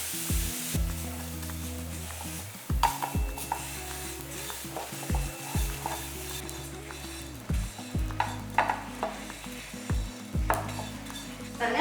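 Black sesame seeds roasting in a pan while being stirred: steady dry sizzling with repeated scraping strokes of a spoon against the metal, close and continuous, no voices.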